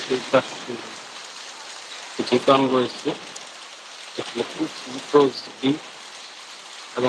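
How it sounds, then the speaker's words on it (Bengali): Steady heavy rain patters in the background in Mymensingh while someone talks in short bursts over it. "এদিকে প্রচুর বৃষ্টি হচ্ছে"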